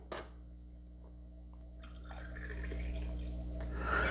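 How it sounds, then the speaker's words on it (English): Two ounces of Bulleit Bourbon trickle into a shot glass for a cocktail, a quiet liquid pour that swells into a steady fill over the last couple of seconds after a brief clink. "Let's go 2 ounces of Bulliet Bourbon."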